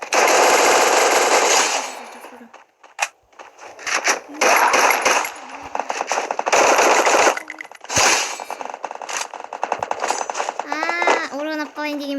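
Rapid automatic gunfire in a video game shooting match, loud dense bursts of shots broken by short pauses, with a voice speaking over the action.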